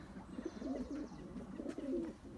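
Fantail pigeons coo in soft, low, warbling phrases, two rolling bursts close by in a quiet loft, with no talking over them.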